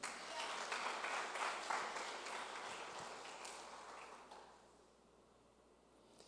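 A church congregation claps for the Lord in a dense, steady patter of many hands that rolls on for several seconds, somewhat distant and soft, before tapering off to quiet.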